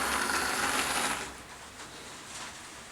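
A model railway auto shuttle train rumbles and whirs into a bay platform, its mechanical running noise loud at first, then dropping off sharply as it brakes to a stop, leaving a softer hum.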